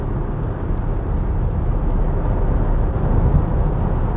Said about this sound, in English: there's a bit of wind noise because I've got the sunroof open